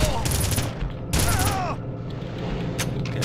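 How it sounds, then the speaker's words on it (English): Rapid gunfire bursts in the Red Faction video game, two dense loud volleys with mechanical whines, followed by quieter continuous rumble and scattered clicks. "Get shot at."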